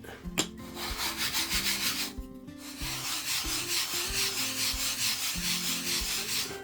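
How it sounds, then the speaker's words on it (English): Steady rhythmic rubbing of sandpaper on a glass-backed sanding pad against soft balsa wood, close up, repeated back-and-forth strokes with brief pauses, no talking. "I'm going to sand bottoms of these flat"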